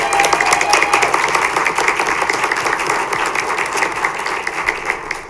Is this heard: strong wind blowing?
no